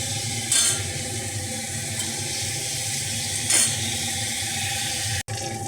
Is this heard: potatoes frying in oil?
yes